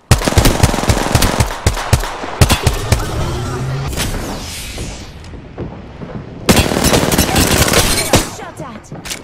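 Rapid automatic gunfire bursts in Apex Legends on the Olympus map, loud and close with sharp repeated cracks, a pause mid-clip, then another heavy burst, with voices calling out over the shooting.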